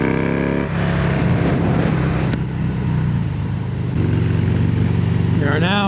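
A Hammer 1275 Sportster motorcycle cruising on a long-distance ride, its engine droning steadily and loud throughout with a slight shift in pitch partway, as someone talks over it.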